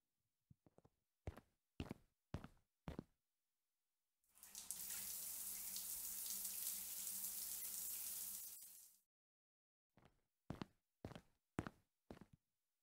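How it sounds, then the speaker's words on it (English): Shower water runs steadily for about four seconds as a strong close hiss, then stops. Sharp footsteps or knocks come before and after it. "Ten-minute shower."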